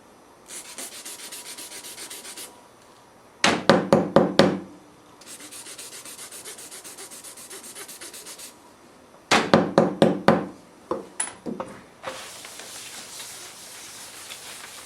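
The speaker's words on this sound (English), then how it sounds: "Once you successfully rub the chalk in" Chalk rubbed by hand onto a steel grille drawing, heard as repeated scratchy back-and-forth scrubbing strokes in bursts, alternating with steadier soft rubbing passages, close and alone.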